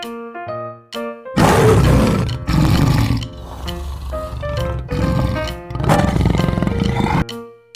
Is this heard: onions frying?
no